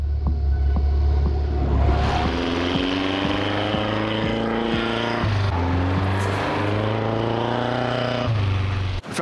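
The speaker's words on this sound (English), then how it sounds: "let him drive over the top of it and get some shots of him going in untracked snow" An off-road rig drives through deep untracked snow, its engine droning loud and steady throughout with shifting harmonic tones as it works over the top of the snow.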